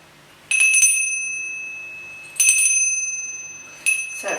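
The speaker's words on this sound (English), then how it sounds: "a little witch's bell" A small metal witch's bell engraved with a pentacle rings in three separate shakes, each a bright, clear chime that hangs and slowly fades.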